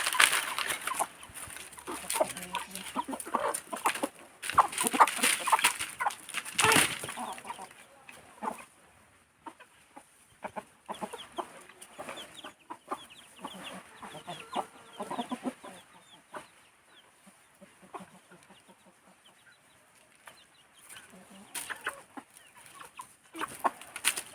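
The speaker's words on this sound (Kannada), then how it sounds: "ಮತ್ತೆ ಬೇರೆ ಕೋಳಿ ಬರ್ತದೆ" Chickens cluck busily while pecking at food scattered on dusty ground, a steady run of close, overlapping clucks with louder bursts near the start and softer chatter continuing throughout.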